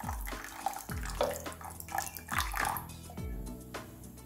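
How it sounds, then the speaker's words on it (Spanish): Water poured in several short bursts over sugar in a pan while making Italian meringue, each splash fairly quiet and close, separated by brief pauses and light clinks. "Simplemente he cubierto el azúcar con agua, que son 85 gramos de agua."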